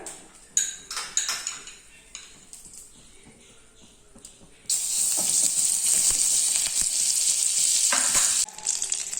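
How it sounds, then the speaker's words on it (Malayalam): A tablespoon of butter melts in a pan for a soya curry: a few clinks and stirring scrapes first, then a loud, steady hissing sizzle that takes over and holds to the end. "ബട്ടർ നന്നായിട്ട് ഉരുകിയിട്ടുണ്ട്"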